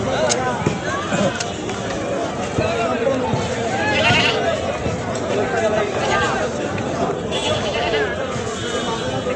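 Goats bleat repeatedly amid a noisy crowd at a busy Eid livestock market in rural Bangladesh, with voices talking throughout and the animals calling over and under the chatter.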